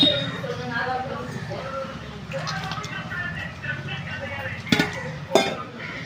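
Food being stirred and mixed in a pot while cooking, with soft scraping and a couple of sharper clinks of a utensil against the pot near the end, heard under steady talk.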